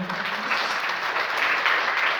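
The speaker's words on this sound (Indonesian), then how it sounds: "Tepuk tangan." A church congregation at a Christmas service applauds, a dense, steady wash of many hands clapping together, fairly loud and filling the room for a couple of seconds without any speech.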